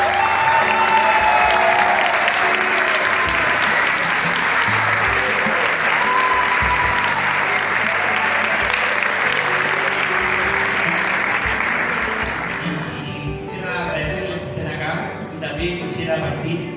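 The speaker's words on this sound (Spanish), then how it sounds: "Por favor, denle otro aplauso." Long, full applause from an audience at a book launch event, loud and steady for about twelve seconds before tapering off as a voice and scattered claps remain.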